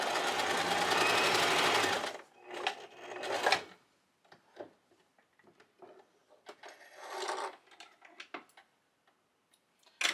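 A sewing machine stitches a seam on a hat in a loud, fast, continuous whir for about two seconds. Softer ticks, short bursts and handling clicks follow, with quiet gaps between them.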